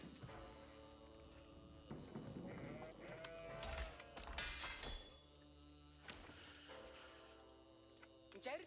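Sheep bleat several times in the Age of Empires IV strategy game, short wavering calls mixed with ticking game sounds and other faint in-game effects, fairly quiet overall.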